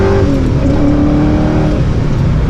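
The 2005 Ford GT's engine roars loud and close as it revs up under acceleration toward 6,500 RPM, its pitch climbing steadily with a dense, throaty exhaust and no voices over it.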